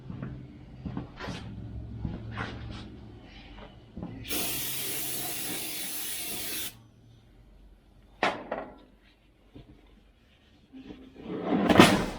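Aerosol parts cleaner spraying packing oil off new brake rotors for a 2015 GMC Sierra Z71 rear brake job: a steady loud hiss lasting about two seconds, then clanks and handling knocks in a garage.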